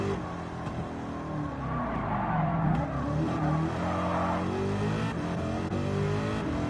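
A race car engine in Gran Turismo 7 revs and roars continuously, with tires squealing and skidding through a drift, loud and close, swelling briefly midway.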